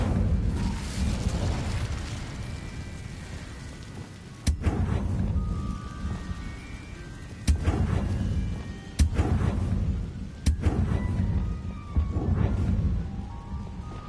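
Incendio fire spell cast in Hogwarts Legacy: a low rumbling roar of flames with sharp cracking bursts recurring every couple of seconds, no talk.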